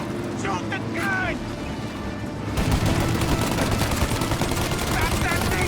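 Shootout gunfire in Mafia Definitive Edition, a dense barrage of loud shots that grows heavier partway through, with shouted voices over the opening seconds.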